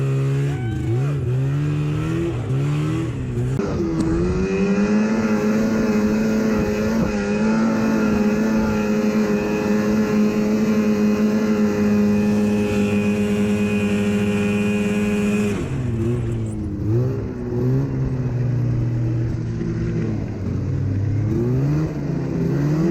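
A Yamaha Phazer snowmobile runs at full throttle, its engine holding a loud, steady high whine with a few shifts in pitch, heard close and continuous throughout.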